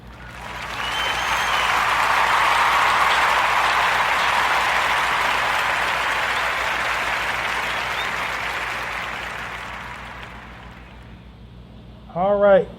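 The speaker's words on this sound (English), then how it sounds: "join me into giving our brother Lorenzo Lewis a warm narrative podcast round of applause" Warm, sustained round of applause from an audience at a podcast event honoring a guest, swelling in the first seconds and slowly fading over about ten seconds, ending with a short burst of other sound.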